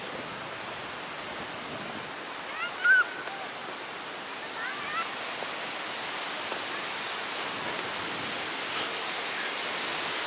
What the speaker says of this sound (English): Let's head this way and see how the waves are playing here.